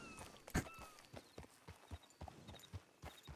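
Horse hooves clopping in a ranch role-play video game, a steady series of soft, evenly spaced hoofbeats at walking pace, fairly faint, with a few brief tonal game effects and no talk.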